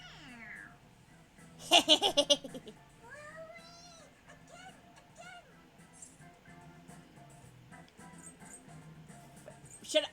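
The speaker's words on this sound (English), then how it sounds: "It meows when you press on its head." A stuffed toy cat in the Persona 5 Royal video game lets out short, squeaky meows when pressed on its head, a burst of them near the start with laughter and talk throughout.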